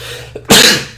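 A single sharp, forceful sneeze bursts out after a brief faint intake of breath, close and loud, then trails off.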